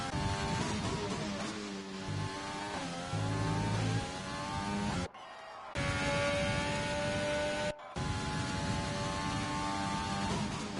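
A Formula 2 race car engine in a sim racing game at the Australia circuit screams steadily through a lap, harmonic whine rising and falling with gear changes and two brief cuts to near silence during shifts.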